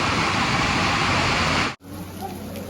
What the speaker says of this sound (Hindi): 1 घंटे नॉन स्टॉप झमाझम बारिश हुई है।